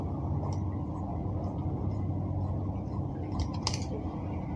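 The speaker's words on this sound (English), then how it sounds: "So I will now cut it out." Scissors cut through fabric for a danshiki shirt, soft snips over a steady low room hum, with one crisper cut near the end.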